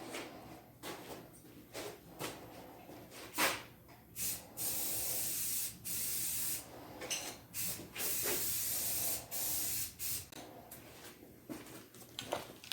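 Rattle-can spray paint goes onto a roll bar in white for a Triumph Spitfire, heard as repeated short and longer hissing bursts separated by brief pauses, close and fairly loud, with no talking.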